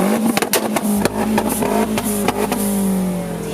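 Turbocharged buggy engine revving and idling close by, sharp turbo pops and crackles repeating over a steady rumbling idle, loud with no voice.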